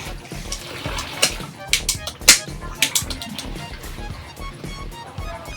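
Rice being washed in water gives splashy sloshing and trickling, with bursts of pouring and swishing in an uneven rhythm, close and moderately loud, and faint speech in the background.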